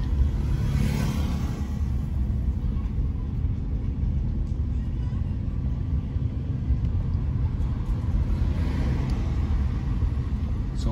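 A car drives steadily through a residential part of Liberia, giving a loud, continuous low rumble of engine and road noise with no talking over it.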